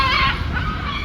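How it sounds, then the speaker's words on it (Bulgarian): Gulls calling nearby, loud overlapping harsh honking cries in a short continuous burst with no talk. "не са чайки, това са гларуси"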